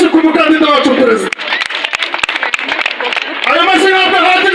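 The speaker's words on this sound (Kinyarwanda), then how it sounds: "Amashyi menshi ku mukandida wacu perezida." Crowd applause for a Green Party presidential candidate at a Kibeho campaign rally. A spoken voice starts the clip, then a burst of scattered claps swells and continues under further talk.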